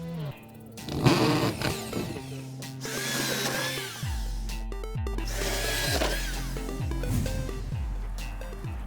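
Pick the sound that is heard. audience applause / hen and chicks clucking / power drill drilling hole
power drill drilling hole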